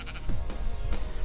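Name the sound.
sheep bleating in Minecraft video game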